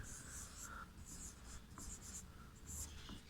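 Pen or marker writing a sentence by hand during a Hindi-language English tense lesson, steady scratchy strokes in short bursts close to the mic, with no voice present.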